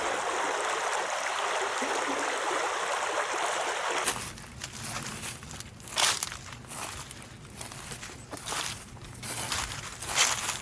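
Creek water flows with a steady broadband rush for several seconds, then gives way to quieter background with crunching footsteps and rustling nearby.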